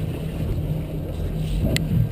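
An idling Volvo Penta V8-270-C-A OceanX marine engine, just started and in neutral, gives a steady low rumble close to the microphone with some wind noise and a brief sharp click near the end.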